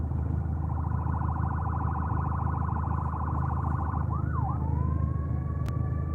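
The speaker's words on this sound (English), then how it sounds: "that's an ambulance and it's on the other side of the road" An ambulance siren passes on the opposite side of the road, a rapid warbling wail heard from inside a moving Saturn Sky Redline, steady over road rumble before sliding into a slower rising-and-falling tone near the end.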